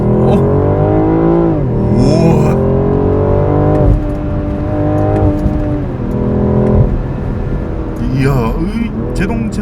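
A 2021 BMW M440i coupe accelerates hard in Sport Plus mode, its engine note climbing and dropping through several gear shifts, loud and steady from inside the cabin while a voice talks over it.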